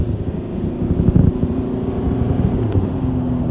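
Ford Everest XLT 2.2 SUV pulling away from a standstill, a steady low engine drone with wind rush building and holding throughout, fairly loud and close with no talking.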